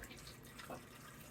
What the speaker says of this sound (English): And then all I have to do is cover this with water.